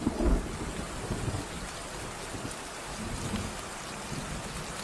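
Steady rain falls with a soft, low thunder rumble at the start, faint and continuous throughout, with no voices.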